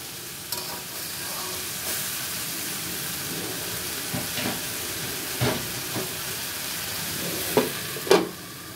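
Gima saag greens frying over low heat in a pan covered with a clay lid, no water added: a faint, steady sizzle and hiss throughout, broken by a few soft stirring knocks and clatters near the end.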